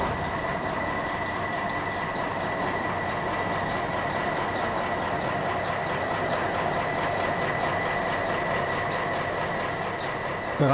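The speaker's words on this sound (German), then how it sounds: "332-092 rollt im Museums-BW Nördlingen auf die Scheibe." A small DB shunting locomotive, class 332 built by Orenstein & Koppel in 1963, rolls onto a turntable at a railway museum depot, a loud steady diesel drone with faint rhythmic rail clatter throughout.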